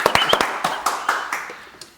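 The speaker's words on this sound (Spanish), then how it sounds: "pues un aplauso" Applause from a small studio audience on a Catholic Franciscan TV program: a short burst of irregular claps that quickly thins out and fades, fairly close and with no voices over it.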